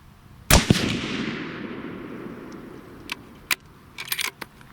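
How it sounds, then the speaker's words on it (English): A Savage 111 bolt-action rifle in .270 Winchester fires a single loud, close shot that rings out and decays over a couple of seconds, followed by a few sharp metallic clicks and clacks. "I want to shoot this last group and get a 1-hole group"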